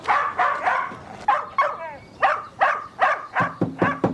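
A dog barks repeatedly nearby, sharp yips and woofs in an irregular rhythm, mixed with a few whimpers, behind a house where no one else is around.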